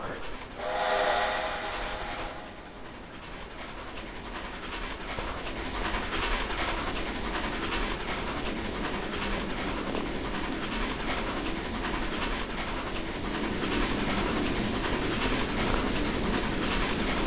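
A CP 2-10-4 Selkirk steam locomotive in the Trainz 2019 game gives a brief whistle blast, then a dense, steady roar of running train noise with rhythmic rail clatter continues throughout, fairly loud.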